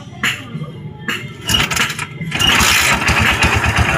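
Motorcycle engine after repair being kicked and cranked a few times, then firing up into a close, sputtering idle that steadies.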